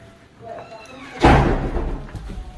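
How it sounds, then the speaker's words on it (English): An elevator door swings shut with a single solid thud about halfway through, following a quiet stretch with faint voices nearby. "So this door closes like a regular door."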